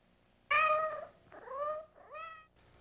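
A cat meows three times in a row, the first cry loudest and the next two slightly softer, close by with a quiet background.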